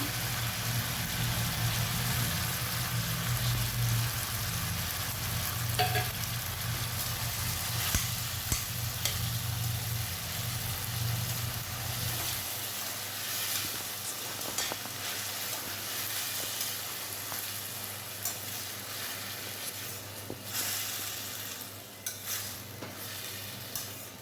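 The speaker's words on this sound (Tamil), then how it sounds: "தக்காளி நல்லா வதங்கி வந்தால் தான் தக்காளி சாப்பாடு டேஸ்ட்டாக இருக்கும்" Tomatoes sauté in a pan for tomato rice, a dense continuous sizzle with steady stirring scrapes, close and loud, over a low hum that drops away partway through.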